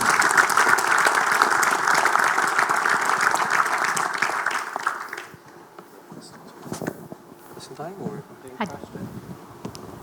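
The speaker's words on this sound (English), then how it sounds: "I'll ask for applause for our 3 panelists" Audience applause for three panelists at a blockchain roundtable, dense and loud for about five seconds, then dropping away to scattered claps, shuffling and murmured voices as people begin to talk.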